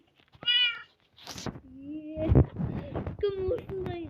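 A cat in the mobile game Minecraft PE gives several short, high meows, mixed with brief voices and game noises.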